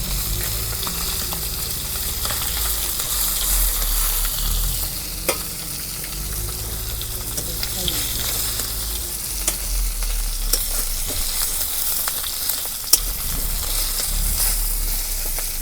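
Fish frying in a pan on a traditional village clay stove, a steady sizzle with occasional scraping and stirring clicks, close and continuous, with no talking.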